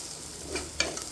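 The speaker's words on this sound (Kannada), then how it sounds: "ನಾನು ಫ್ರೈ ಮಾಡ್ತಿದ್ದೀನಿ." Masala frying in a pan for kaju paneer butter masala, a soft continuous sizzle with light stirring scrapes and a brief clink near the end, close and fairly quiet, no talking.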